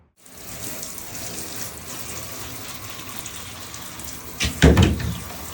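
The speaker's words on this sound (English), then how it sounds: "dunk these into the shower, rinse them off because they are covered in dust" A shower runs steadily to rinse dusty Philodendron micans cuttings, a constant hiss of spraying water that turns into a brief louder splashing gush near the end, with no voices.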